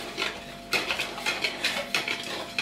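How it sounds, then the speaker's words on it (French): Cookie dough being stirred with butter and egg in a bowl, a utensil scraping and clacking against the sides in a steady series of strokes, close and moderately loud with no voices. "il suffit de mélanger la préparation avec le beurre et l'œuf."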